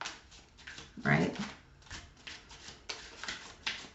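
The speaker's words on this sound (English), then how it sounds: "I'm just shuffling right now." Tarot cards are shuffled by hand in several quick riffling bursts, with soft papery flutters and taps close to the microphone in a quiet room.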